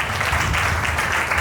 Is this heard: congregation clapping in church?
yes